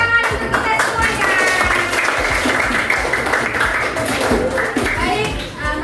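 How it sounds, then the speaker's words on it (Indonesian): A class of sixth-grade children clapping together, loud and continuous for the whole stretch, with kids' voices mixed in underneath. "Tepuk tangan untuk kita semuanya."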